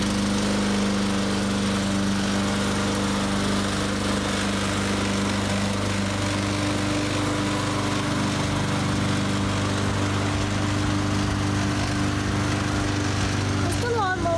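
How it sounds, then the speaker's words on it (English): A pull-start lawn mower engine runs steadily up close, a loud, continuous drone that holds without pause from start to finish. "Using the pull string, pull really hard and the lawnmower will start."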